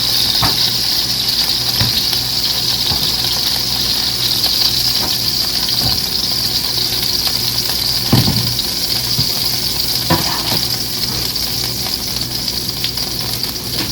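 Chicken frying in olive oil in a pan, giving a loud, steady, hissing sizzle with an occasional soft knock or scrape.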